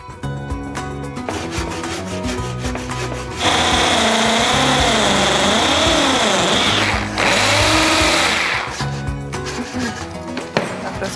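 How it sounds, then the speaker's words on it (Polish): Power drill bores a series of holes through a small wooden board for a homemade tic-tac-toe toy, a loud, sustained whirring grind with pitch wavering as the bit cuts, then briefly dropping before ending. "Wszystkie 9 otworów już wywiercone."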